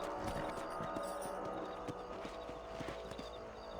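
Horse hooves clip-clop at a steady trot in the video game Red Dead Redemption, close and continuous over a low ambient game backdrop.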